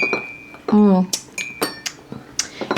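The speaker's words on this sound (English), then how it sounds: "let's go ahead and stir these up" A spoon clinks against glasses while spiced cider cocktails are stirred: a series of bright, close, irregular clinks, with a short burst of speech early on.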